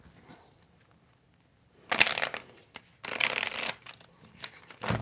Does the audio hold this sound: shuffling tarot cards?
yes